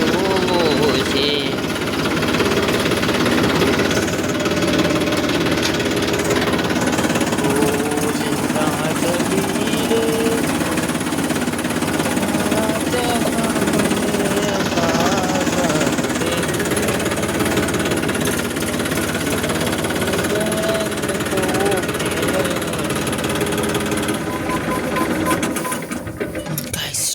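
A tractor engine runs steadily, giving a loud, continuous rattling mechanical drone throughout, with people talking over it.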